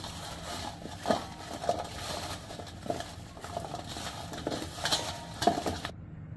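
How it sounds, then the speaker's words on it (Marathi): Raw mango pieces are tossed and stirred with turmeric and salt in a metal vessel, giving a run of scraping, shuffling stirs with a few sharper clinks, moderately close and steady, with no talking. "आता आपण ह्या फोडी हलवून घेऊयात, जेणेकरून हळद आणि मीठ कैऱ्यांना व्यवस्थित लागेल"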